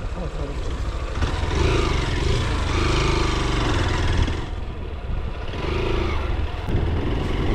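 A Honda XR 190 motorcycle ridden off-road over rough ground, its engine running steadily and loud throughout, with revving swells and clattering from the bike over the terrain.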